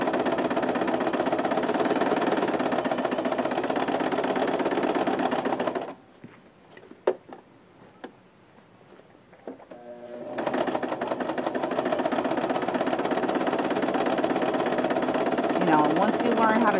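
Sewing machine running steady, rapid stitching while shirring rows on a summer dress, the needle set far left; a loud continuous whir stops for a few seconds of quiet clicks and handling, then resumes.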